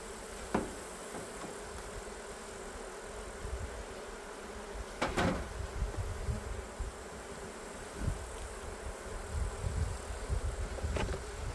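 Honey bees hum in a steady, dense drone around an open hive during inspection and honey harvest, with a few sharp knocks and clicks of hive parts being handled.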